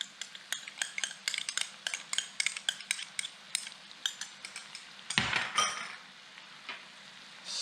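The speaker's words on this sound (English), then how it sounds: "we're going to saute these for about 30 seconds" Garlic noodle ingredients sautéing in a pan, with a quick run of sharp utensil taps and scrapes against the pan over a light sizzle, then a louder burst of frying and a quieter hiss, no voices.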